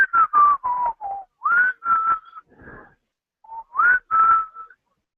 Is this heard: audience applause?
no